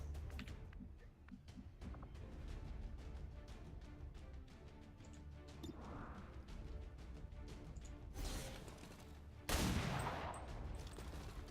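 Enemy return gunfire in the turn-based tactics game XCOM 2, in a ballistic-weapons-only run: a series of sharp shots and crackling bursts over a steady rumbling backdrop, ending in two loud blasts.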